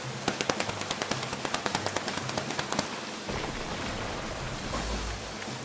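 Children pat their legs to imitate heavy rain, with quick, irregular slapping pats that rattle for about three seconds and then give way to a softer, steady rushing patter.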